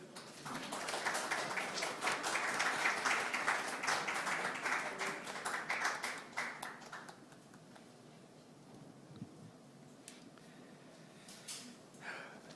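A hall audience at a People Power Party vision presentation applauds to welcome presidential hopeful Hong Joon-pyo: a dense, loud burst of clapping that swells for several seconds, then thins out and fades into quieter room noise.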